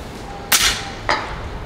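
Two sharp reports from an FX Impact M3 800mm airgun fired at long range outdoors, about half a second apart, each a crisp crack with a short bright tail, loud against quiet background.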